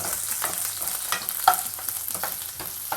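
Chopped onions sauté in a pan for a sardine fish curry, a soft sizzle with light scraping stirs and a few small clatters, close and fairly quiet.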